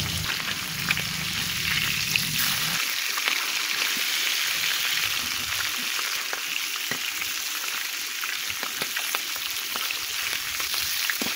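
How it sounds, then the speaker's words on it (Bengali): Hilsa fish fry in hot oil in a wok, giving a steady, dense sizzle and crackle that stays loud and close the whole time. Small pops and spatters rise above it, and nobody speaks. "ইলিশ মাছগুলো বেশি কড়া করে ভাজা যাবে না"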